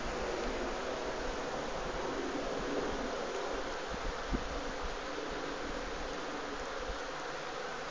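A steady, faint hum of honey bees busy around hives at an allotment apiary, a continuous buzzing drone mixed with outdoor hiss and light wind, with no talk.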